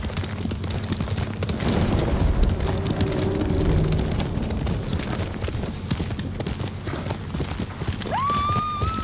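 A horse in the video game Ghost of Tsushima gallops with fast, continuous hoofbeats over a dense, loud game soundscape. The run ends with a rising whinny.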